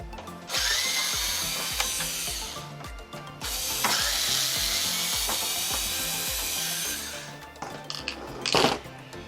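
Screws being backed out of an Apple iMac G3 computer case, with rhythmic ratcheting clicks and a whirring driver in long close runs, pausing briefly between screws, no talk.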